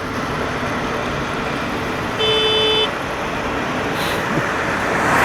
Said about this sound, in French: Du coup je vais klaxonner tout le ride.